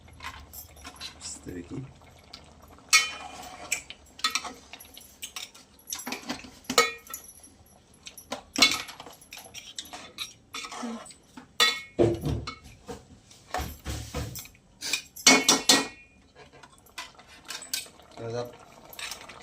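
A spoon clatters and scrapes around a pot of crab and prawn curry with dried mango, giving irregular close metallic knocks and stirring scrapes, with a voice talking intermittently throughout.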